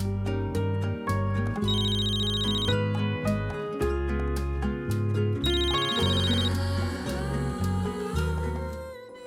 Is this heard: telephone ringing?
yes